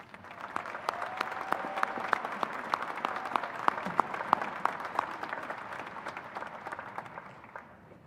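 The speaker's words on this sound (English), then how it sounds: "I'd like to also ask everyone to please give our staff members a round of applause." Audience applause at a university fall commencement ceremony, steady broad clapping from a large crowd heard at a distance, fairly faint, with individual sharp claps standing out and no talk over it.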